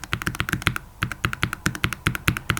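Typing on a Wooting 80HE keyboard fitted with old switches, a quick run of sharp clacky keystrokes at close range in an irregular fast rhythm, no voices.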